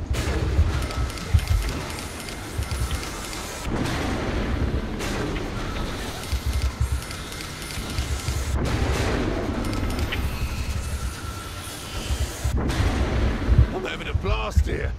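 Continuous dense gunfire and booming blasts from Saints Row IV, loud and sustained, with a voice speaking Italian intermittently underneath.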